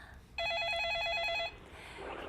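A telephone rings with an incoming call during a live phone-in broadcast: one bright, warbling electronic ring lasting about a second, loud and close over faint background noise.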